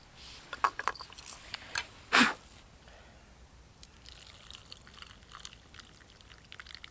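Tea pours briefly into a cup outdoors, a short liquid splash after a few light clinks, then quiet ambient air.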